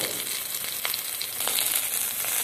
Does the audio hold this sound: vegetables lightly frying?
yes